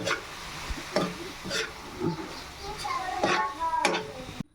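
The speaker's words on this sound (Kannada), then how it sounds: "ಅನ್ನ ಮೊದಲಿಗೆ ಮಾಡಿಟ್ಕೊಂಡಿದ್ದೆ. ಈ ಥರ ಕಲಿಸ್ತಾ ಇದ್ದೀನಿ." A spoon stirs and mixes cooked rice for vangi bath in a pan, scraping and clinking in irregular strokes about every half second over a low background hum.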